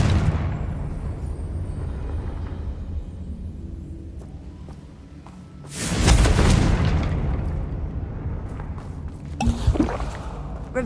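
A Confringo explosion spell in Hogwarts Legacy goes off midway as a single loud, deep boom with a burst of debris. It fades into a rumbling tail over soft ambient game sound, followed by a sharper pop near the end.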